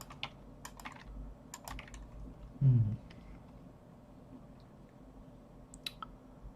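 Keys on a computer keyboard clack in sparse, irregular bursts, with a soft thump partway through and quiet pauses between keystrokes.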